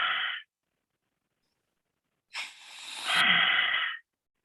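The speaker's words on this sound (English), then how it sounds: "I want you to create a ha sound like this." Breathy, open-mouthed exhales with a soft ha sound, practiced as Ujjayi breathing: a short hiss, a pause of almost two seconds, then a longer airy exhale that shifts in tone midway, close and alone.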